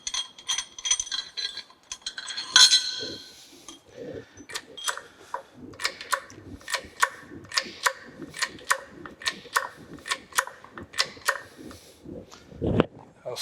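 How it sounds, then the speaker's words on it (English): A bolt is worked out of a horizontal boring mill assembly, giving a quick series of sharp metallic ratcheting clicks at a steady uneven pace, fairly quiet, with faint voices in the background. "We're going to pull this bolt out."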